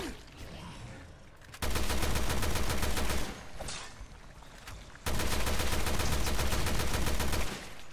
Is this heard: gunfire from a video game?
yes